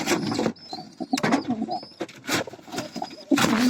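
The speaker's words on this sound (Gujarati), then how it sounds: "આની અંદર છે આપણે 3 કબૂતર" Soft coos from three pigeons kept in a box repeat in short bursts close by, mixed with rustling and a few faint chirps; no talking.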